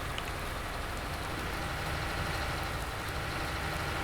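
Steady rain falling in the farming game Farming Simulator 19, a dense continuous hiss mixed with a low engine-like rumble, unbroken and even throughout.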